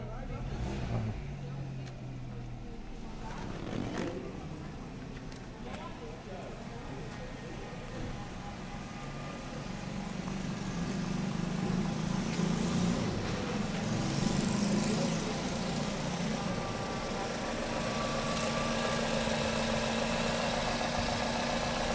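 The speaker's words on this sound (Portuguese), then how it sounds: "o motor tá um reloginho" Steady idle of a 2014 Nissan Sentra SV engine, a low even hum that continues throughout and grows slightly stronger partway through, with someone talking over it.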